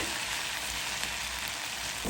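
Okra (bhindi) fries in a pan with a faint, even sizzling hiss that holds steady and close throughout, with no voices.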